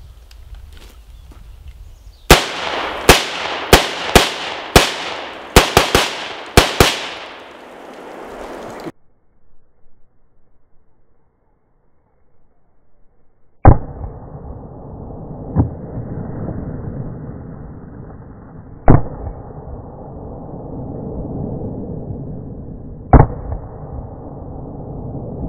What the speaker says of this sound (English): I still have 2 more 2 liters to take it out on. So let's blow these things up.